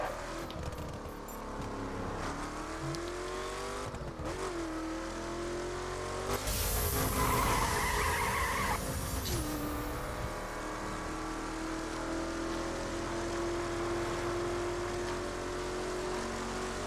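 Cars in The Crew on PS4 rev and accelerate, the engine pitch sliding up and down through gear changes, with a louder surging burst in the middle and steady driving noise after.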